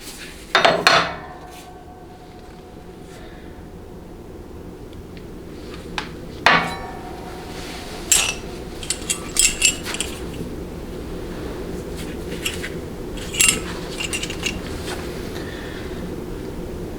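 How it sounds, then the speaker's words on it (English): A metal collet and a transmission bushing from a 68RFE transmission drop onto a shop floor, making a sharp metallic clatter near the start, another hit a few seconds later, then scattered light clinks and taps. "I'm going to allow the collet and the bushing to fall down to the floor"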